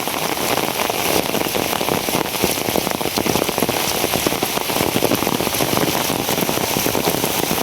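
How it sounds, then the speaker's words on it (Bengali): Heavy monsoon downpour drumming steadily and loudly on surfaces, a dense unbroken hiss of rain with scattered sharper drop impacts throughout, no voices. "দেন বৃষ্টি স্পিড আরও বাড়তেছে, ঝুমঝুমান্য বৃষ্টি"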